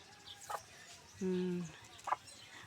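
Faint, close clucking from a tethered chicken: a couple of short clucks, then a drawn-out low squawk, followed by another brief cluck in a quiet setting.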